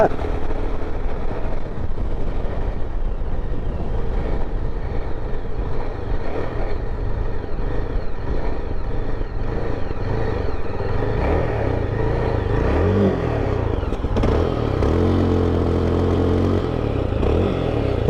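A KRF motorcycle engine revs hard and continuously at full throttle without pulling away, apparently starved of petrol, producing a loud, close, rough roar.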